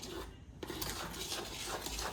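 Metal pots and utensils clink and scrape in a home kitchen while dhokla batter is readied, a few light knocks and rubbing clatters close by with no talk.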